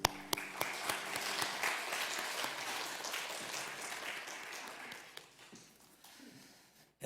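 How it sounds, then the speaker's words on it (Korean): A church congregation at a Sunday worship service applauds the choir and praise team, a full burst of clapping that opens sharply, holds steady, then fades out toward the end. "우리 할렐루야 찬양대와 또 주일 경배 찬양팀 축복하고 격려하는 박수 하겠습니다"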